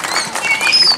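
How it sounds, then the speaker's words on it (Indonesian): An audience at a Balinese bondres comedy performance gives a short burst of lively applause, with a few thin whistle-like tones over the clapping. "tepuk tangan yang sangat meriah untuk Bangli yang luar biasa ini."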